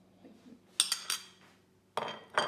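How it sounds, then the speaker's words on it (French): Three very ripe bananas dropped into the bowl of a CookEasy+ food processor while making banana bread: a few sharp, close clattering knocks in two bursts, with quiet stretches between and no talk. "À la troisième étape, on rajoute 3 bananes bien mûres."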